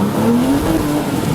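Turbocharged 3.7-liter Porsche 987 Cayman pulling hard in second gear with stability control switched off, a loud, continuous engine note climbing steadily in pitch, heard from close inside the car.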